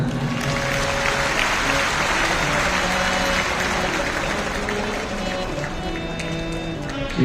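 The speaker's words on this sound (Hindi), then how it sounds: "जोरदार ताली बजाएं।" A large audience at a Shiv Mahapuran katha in Bathinda applauds, a dense, continuous roar of clapping that holds steady and loud throughout.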